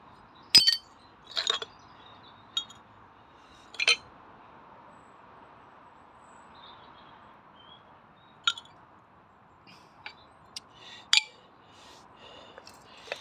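White glass Coke bottles at a newly dug dump site clink and knock against each other as they are handled, a series of sharp, bright, separated chinks over a soft background hiss.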